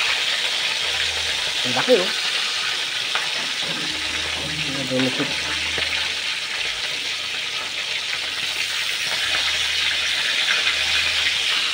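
Marinated milkfish (bangus), prepared spicy daing style, fries in hot oil with a steady close sizzle and bubbling, while someone talks briefly over it and a few clinks and stirring sounds come and go.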